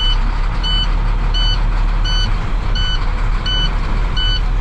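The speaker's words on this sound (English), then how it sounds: "we don't need air to run the plows, so we have our plow up and down." A 2015 International 7400 truck idles steadily while its snowplow is raised and lowered, with a regular series of high reversing-style beeps repeating over the engine rumble.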